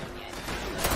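Heavy .50 caliber machine gun fire in Fallout 76, a dense continuous burst of rapid shots that swells louder toward the end, with faint talk underneath.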